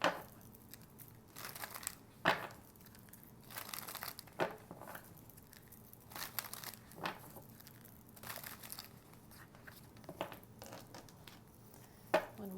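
Soft, repeated papery riffling and crinkling as a deck of oracle cards is shuffled over and over, quiet and close, with sharper flicks at irregular intervals and no speech.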